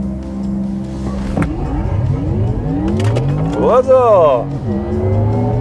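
A Porsche Taycan 4S electric car accelerates hard under launch control, its rising whine sweeping upward with some tire noise, while a voice speaks over it.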